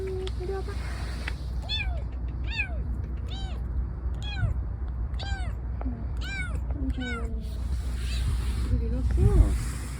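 A lost kitten found at a construction site meows repeatedly in high, rising cries, about eight to ten calls spaced through the clip, over steady low rumbling background noise.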